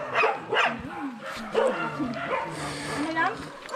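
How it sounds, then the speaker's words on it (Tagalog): Several dogs bark and yip excitedly close by on a rural roadside, mixed with whimpers and overlapping with people talking throughout. "Kalmahin mo yung mga aso mo, nagkakahuli."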